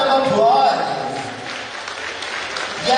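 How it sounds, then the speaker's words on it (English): An audience at a Cebu Provincial Arts Month dance competition bursts into steady, dense applause that fills the space for a few seconds, with a voice briefly heard at the start. "How about we give ourselves a big round of applause?"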